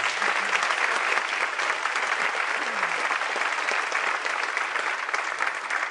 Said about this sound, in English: Let's give her another big round of applause.